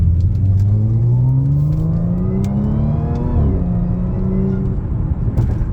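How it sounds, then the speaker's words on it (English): A B8.5 Audi S4 accelerates in sport mode, its engine note climbing steadily in pitch, dipping at one crisp upshift, then rising again. The drone is loud, close and continuous. "And that's barely giving it gas."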